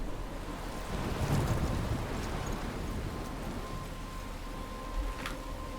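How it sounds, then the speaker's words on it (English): Thunderstorm ambience in the video game Life Is Strange: a steady roar of wind and crashing waves with rain, constant and fairly loud throughout, with a faint brief crackle near the end. "I'm trapped in a storm?"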